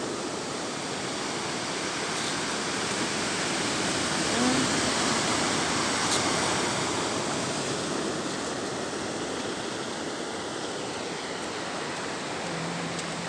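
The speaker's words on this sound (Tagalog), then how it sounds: "Doon sa tinig ng alon, oh, malakas kanta ang alon ngayon." Ocean surf at Caba beach roars in a steady, full wash of breaking waves throughout, with no distinct individual crashes standing out, heard alone with no talk.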